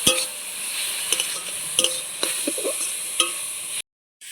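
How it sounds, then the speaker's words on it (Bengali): Grated radish sautés with salt and turmeric in a pan, a constant bright sizzle under scattered spatula scrapes and stirring clicks, close by, then a sudden cut to silence near the end. "এবার দিয়ে দিচ্ছি স্বাদ মতো নুন পরিমাণ মতো হলুদ গুঁড়ো দিয়ে একটু বেশ কিছুক্ষণ কষিয়ে নেবো"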